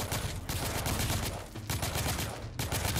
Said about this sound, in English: Just keep shooting them